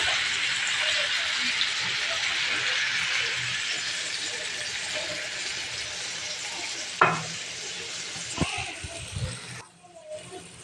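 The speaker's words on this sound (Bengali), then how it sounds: "এখন আমি পানি দিয়ে দিচ্ছি।" Chicken curry cooked with papaya and potato sizzles steadily in a pan, then water poured in gives a sharp splash and hiss near the end, with faint stirring knocks.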